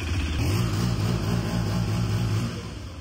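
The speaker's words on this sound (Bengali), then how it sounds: "বাইকটা এখন স্টার্টে আছে" CFMoto NK 125 motorcycle idling steadily, a low even engine thrum held close and alone for a few seconds.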